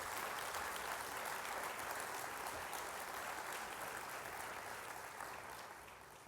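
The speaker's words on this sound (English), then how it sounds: "Let's give him a big round of applause." A conference audience applauds continuously, a fairly distant, even wash of clapping that holds steady for several seconds before tapering slightly at the end.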